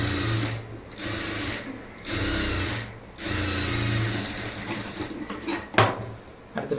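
A sewing machine topstitches lining cloth on a blouse, whirring in a steady, dense mechanical drone through several bursts with short pauses between, close up and without speech.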